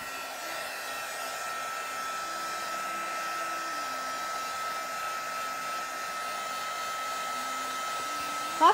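A hair dryer drying paint, a steady close whooshing drone that runs evenly and alone throughout, with a brief bump at the very end.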